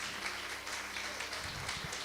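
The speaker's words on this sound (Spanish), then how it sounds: "Denle un fuerte aplauso al Señor." A church congregation at a Spanish-language service applauds, a brief, steady wash of clapping at moderate level with no break.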